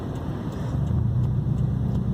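A Saab 9-2X with a Spec-D WRX exhaust idles with a deep, steady exhaust rumble, low and even throughout with a faint rhythmic pulse and no revving.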